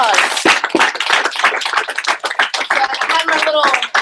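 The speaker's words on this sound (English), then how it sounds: "give him a round of applause." Close, loud clapping from a team meeting audience, with distinct claps in an uneven rhythm. Voices and cheering carry over the applause.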